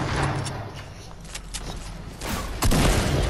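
Automatic gunfire in a video game sounds in loud, close bursts with a few heavier booms, blending into a busy, noisy mix.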